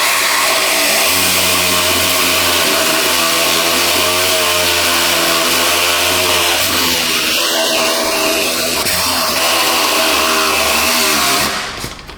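A power saw cuts through the frame of a Ford Flex behind a weld, a loud continuous high-pitched motor whine with a grinding metallic edge that holds steady for several seconds, then winds down at the end.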